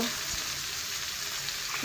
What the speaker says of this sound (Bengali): বেগুনটা দিলাম, ভাজা ভাজা ভাজা হবে, লাল লাল হবে, ভাজা ভাজা হচ্ছে